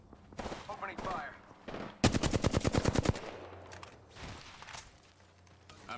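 Gunfire in the video game Apex Legends: a single rapid automatic burst of about a dozen shots lasting roughly a second, preceded and followed by quieter in-game movement and effects.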